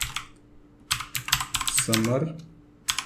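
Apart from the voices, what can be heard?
typing code on a computer keyboard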